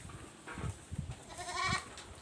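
Young goat kids on a small farm bleat repeatedly in short nasal calls, several overlapping bursts close by, with no talking.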